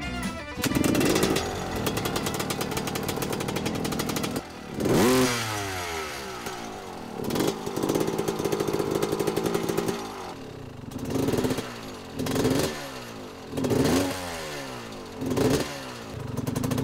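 An old dirt bike engine idles roughly and unevenly, its steady mid-pitched putter repeatedly dipping and surging as if the idle is bottoming out, with occasional louder blips over about seventeen seconds.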